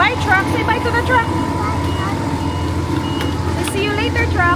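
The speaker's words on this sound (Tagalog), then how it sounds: "May maingay na truck, guys." A truck reverses with a steady repeating beep over a loud, noisy engine rumble on a street, while a voice chatters and other tonal chirps come and go.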